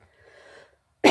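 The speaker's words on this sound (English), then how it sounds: "Sorry about the coughing." A woman coughs once, sharply and loudly, close to the microphone, after a brief faint breath and a moment of near silence. She has been under the weather while reading aloud.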